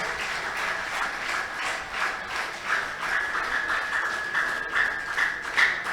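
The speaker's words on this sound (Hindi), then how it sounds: "अब बजाइए दोनों मिलके ताली।" Faint, continuous clapping from an audience at a Ram Katha, a Hindu religious discourse, holds steady for about six seconds with no speech over it.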